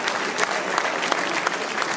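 A crowd claps at a half-marathon award ceremony in Nuits-Saint-Georges, dense, loud applause sustained without a break, with a few sharper claps popping out.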